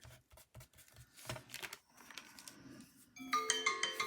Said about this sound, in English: Oh, that's my alarm gone off.